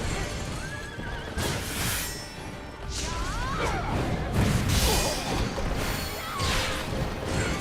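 Horse neighing in the video game Wo Long: Fallen Dynasty, several whinnies rising over a dense, loud mix of hoofbeats, crashes and battle noise, with a voice talking briefly.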